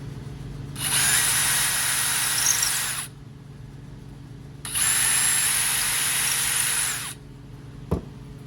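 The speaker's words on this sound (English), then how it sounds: "Now I'm going to drill the keel screw holes." Two bursts of a high-pitched power drill whining for about two seconds each, drilling screw holes in a wooden duck decoy keel, separated by a pause, with a sharp knock near the end.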